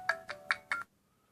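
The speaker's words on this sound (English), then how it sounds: "your watch ringtone, you can choose which ringtone you want" A Ticwatch Pro smartwatch ringtone plays four short bright electronic chimes at an even pace, then stops, clear and close against quiet.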